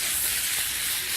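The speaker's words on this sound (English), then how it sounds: "Listen to that sizzle" Potatoes sizzle in a hot frying pan on a studio cooking set, a steady bright hiss of frying, loud and close, continuing without pause and with no talking.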